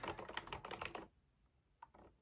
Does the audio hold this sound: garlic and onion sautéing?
no